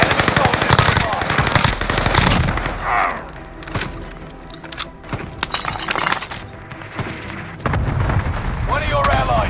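Rapid automatic gunfire and single shots crack through a Call of Duty Warzone battle royale match, loud and continuous in dense bursts, with glass breaking and in-game voice callouts mixed in.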